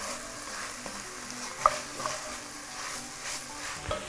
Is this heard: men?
no